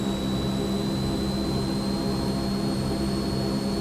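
Turboprop engines of a Transall C-160 in Microsoft Flight Simulator drone loudly and steadily, with a high, piercing whine held above the roar and no voices.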